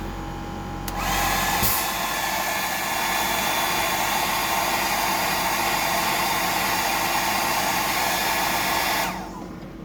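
A hair dryer runs steadily at close range for about eight seconds, blowing hot air over a 175mm glide bait fishing lure to dry it, switching on with a click and cutting off near the end; no one speaks.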